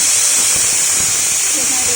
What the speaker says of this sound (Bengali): এখানে দেখুন, গ্যাসের প্রেসার কুকারে কিন্তু একটা সিটি হয়ে গেছে